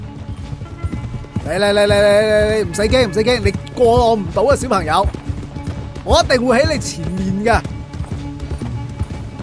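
Galloping horse hooves in Red Dead Redemption 2 during a horse race, a rhythmic clatter of hoof beats running steadily beneath loud, animated talking.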